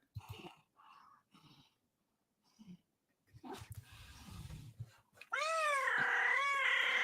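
A cat meows, starting with a few short, quiet mews and rising into a loud, drawn-out caterwauling cry at the end, with some breathy, close sounds and no talking.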